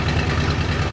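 A 1970 Buick Wildcat engine idles with a loud, steady, deep rumble, close by and heard alone.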